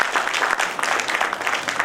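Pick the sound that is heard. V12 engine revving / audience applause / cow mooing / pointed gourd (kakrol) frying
audience applause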